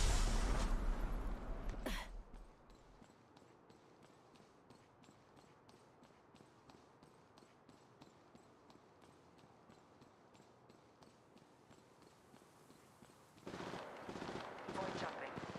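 Rapid automatic gunfire in the mobile battle royale game Apex Legends Mobile: loud bursts open and close the stretch, with a steady, quieter run of evenly spaced shots in between.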